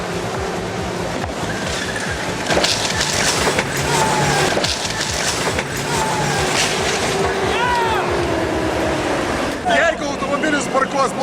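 A tank crushing a badly parked luxury car: loud, sustained crunching and splintering over a heavy rumble, with voices mixed in throughout.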